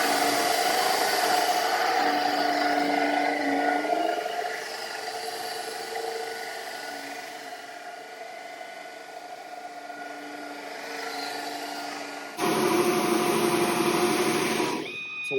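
A Tom-Cat carbon floor scrubber runs while laying down water, giving a steady motor whine and hum that dips in level midway, then a louder, brighter surge near the end, with no speech.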